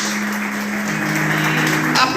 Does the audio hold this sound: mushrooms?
no